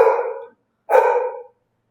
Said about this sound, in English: she is barking right now because she wants attention